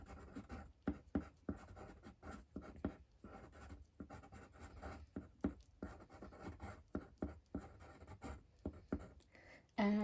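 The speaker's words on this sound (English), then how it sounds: "so I'll draw some trees there." A pen draws trees on paper in quick, busy scribbling strokes, close and fairly quiet, continuing steadily for several seconds.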